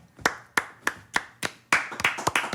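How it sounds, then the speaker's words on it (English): Several people clap hands at a podcast recording, about a dozen crisp, close claps in a loose rhythm that grows quicker and denser toward the end. "Why are we clapping?"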